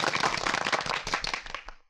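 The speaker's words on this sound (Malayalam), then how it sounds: "എല്ലാവരും ഒന്ന് കൈയടിച്ച്." A crowd of people at a studio inauguration breaks into dense, close applause, many hands clapping at once for about two seconds before it quickly dies away.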